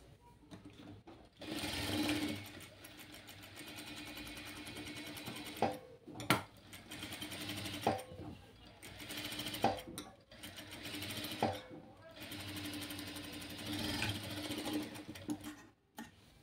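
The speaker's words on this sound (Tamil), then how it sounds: "குத்திட்டு இந்த மார்க்கில் நம்ம வந்து ஸ்டிச் பண்ணி எடுக்கணும்." A sewing machine stitches an A-line frock along a marked line in bursts of steady, fast whirring separated by short pauses and a few clicks, close and fairly loud, with no talking.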